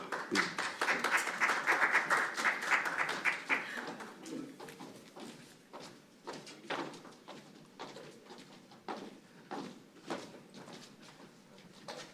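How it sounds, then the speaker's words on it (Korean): Audience applause at a Korean finance forum panel discussion, dense and loud at first, then thinning into scattered claps that taper off. "뜨거운 박수 부탁드립니다"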